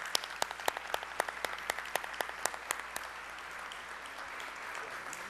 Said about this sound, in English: So please just join me in one more round of applause to these individuals.